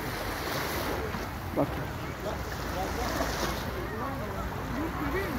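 Sea waves washing onto a sandy beach at the end of summer, a steady broadband wash with wind across the microphone, while someone talks over it throughout.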